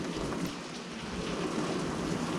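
Steady rain falls outside a summer kitchen window, a dense, even hiss of drops on surfaces heard from fairly close with no voices.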